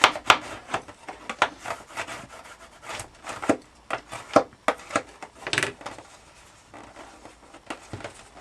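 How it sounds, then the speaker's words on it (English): Burnishing the folded corner of foam core board with a tool, a series of close, quick rubbing strokes in uneven bursts, fading toward the end. "now I'm going to burnish the corner"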